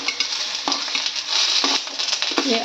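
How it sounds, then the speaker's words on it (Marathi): Tomato and finely chopped ginger hit reddened onions frying in a pan for a soybean curry, giving a loud, close, continuous sizzle broken by quick stirring scrapes, with no talking. "कांदा असा लाल झालाय थोडा, त्यात आता हा टोमॅटो घालून घेते."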